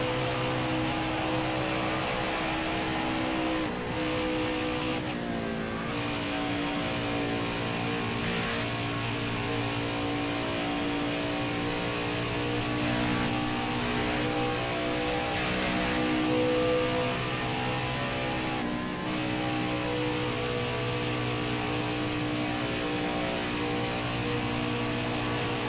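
A NASCAR race car engine in NASCAR Heat 5 drones steadily at high revs through a qualifying lap, a dense, constant roar with little change in loudness from start to finish.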